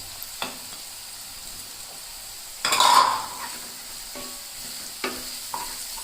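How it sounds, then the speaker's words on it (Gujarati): Curry leaves and chopped tomatoes going into a pan of hot oil for Gujarati gathiya shaak, giving a brief loud sizzling burst amid soft steady frying and a few utensil taps, with no talking. "હવે આપણે તેમાં આપણા કઢી પત્તા નાખી દઈશું અને છેલ્લે આપણે એમાં આપણા સમારેલા ટામેટા પણ નાખી દઈશું"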